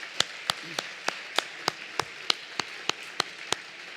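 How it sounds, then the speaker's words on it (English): A single slow, evenly spaced clap, about a dozen sharp strikes roughly every 0.3 seconds, sounds close and fairly quiet at a fundraising event for a cure in Raleigh. It carries no crowd noise. "Let's give them both a round of applause"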